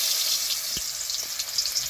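Potatoes fry in oil in a pan, a soft continuous crackling sizzle at close range with a couple of faint knocks, fairly quiet and without speech.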